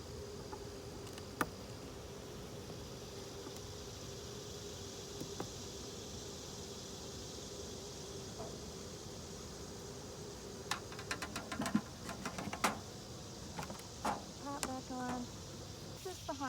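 Honey bees buzz faintly and steadily at an open hive during an August inspection. Scattered clicks and handling knocks grow busier in the later seconds.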